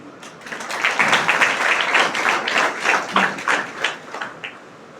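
An audience at an Independence Day talk breaks into dense, close applause that swells and then fades in uneven waves over several seconds.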